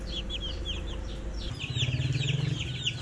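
Small chicks peep in rapid, high chirps close up, joined by a hen's low, rhythmic clucking in the second half, with no talking over them.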